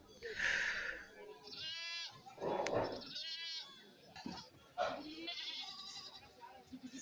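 Goats at a busy livestock market bleat repeatedly up close, several wavering calls overlapping one another amid crowd noise and voices talking in the background.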